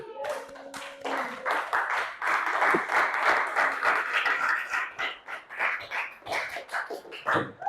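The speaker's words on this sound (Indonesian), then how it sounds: "Tepuk tangannya mana?" Classroom students clapping at a school teaching session, a loose ragged patter of hands that builds to moderate loudness and then thins out, with a brief voice at the start.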